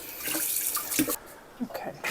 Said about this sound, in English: I'm going to wash my knife first.